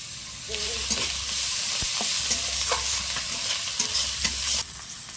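Bay leaves frying in hot oil for a prawn malai curry, a constant close sizzle broken by scraping and clinking strokes of a stirring spoon.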